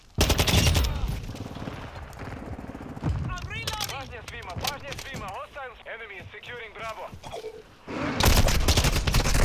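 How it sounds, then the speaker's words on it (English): Bursts of rapid automatic turret gunfire in Call of Duty: Modern Warfare II, loud and close at the start and end, with excited voices talking over the middle. "Oh, it's a turret!"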